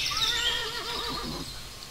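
A horse gives one close, loud whinny with a wavering, quivering pitch that trails off over about two seconds, heard alone without any talking.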